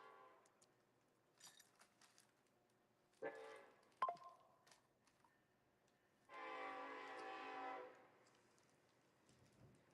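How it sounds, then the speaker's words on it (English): A loud, sustained train horn blast sounds for about two seconds near the end, after a shorter honk and scattered clanks earlier. "When you all hear the train horn?"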